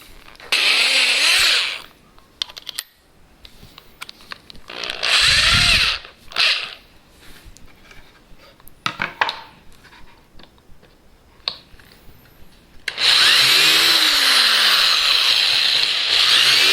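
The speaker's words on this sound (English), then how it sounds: "I'm going to quickly countersink these holes that I just made." A power drill countersinks freshly drilled holes in wood, whining in several loud bursts of one to two seconds with quiet handling in the gaps, then a long sustained run at the end.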